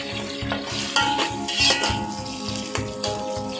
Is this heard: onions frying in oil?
yes